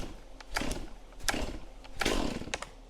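Chainsaw engine firing over during a cold start, three short sputtering bursts spaced about a second apart as it briefly catches and dies, close and loud with no voices.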